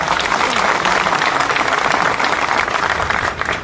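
Applause from a crowd at a Karachi harbour and dock workers' union gathering, with loud, dense, steady clapping close by for several seconds.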